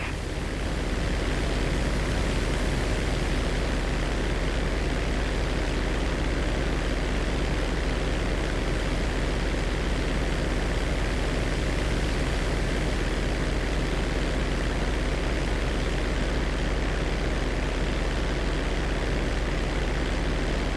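A Merryweather cargo plane flies in Grand Theft Auto V, giving a loud, steady aircraft drone that holds unbroken and without talk from start to finish.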